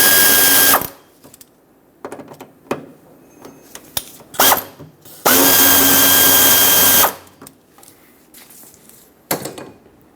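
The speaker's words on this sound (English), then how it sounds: "Use a 6mm socket to loosen these up." A power ratchet or drill on a 6mm socket loosens filler neck hose clamps on a Ford E-350 Super Duty fuel tank, giving loud, close bursts of whirring, with clicks and handling noises between them.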